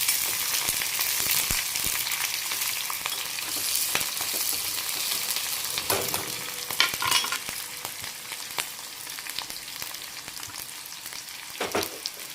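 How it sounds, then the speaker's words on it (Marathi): Onions frying in hot oil in a pan, with a steady soft sizzle and occasional stirring scrapes, following peanuts fried until brown; no talking. "ब्राऊन होईपर्यंत तळून घ्यायचा कांदा"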